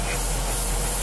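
A spray gun at low pressure, around 15 psi, lightly mists a plating coat onto a model part, giving a steady, close, continuous hiss with no pauses.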